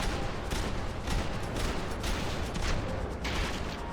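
Rapid bursts of gunfire in Max Payne 3, dense overlapping shots with sharp repeated cracks across the whole stretch, loud and close with a busy, chaotic rhythm.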